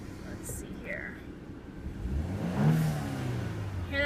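A BMW F30 inline-four twin-turbo engine revs, heard from inside the car with the windows down: a rising whiny, windy engine note swells under soft whispered talk.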